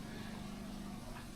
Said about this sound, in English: I got, heaps of fuel for the generator. You can hear it purring out the back.